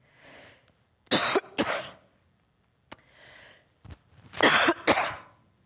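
Several sharp coughs in two clusters, with soft breaths in between, close and fairly loud with no talking.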